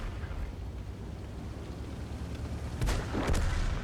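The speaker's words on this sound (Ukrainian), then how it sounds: "подвійну гармату бахнув" Two heavy K2 tank cannon booms in a video game fire in quick succession near the end, breaking a low steady rumble, with a brief whooshing tail after each blast.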